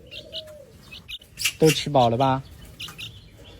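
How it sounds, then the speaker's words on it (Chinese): Magpies give short, sharp chirps close by, mixed with a brief cooing or squawking call, while a person speaks over them. "几只喜鹊正在撕心裂肺的叫嘞"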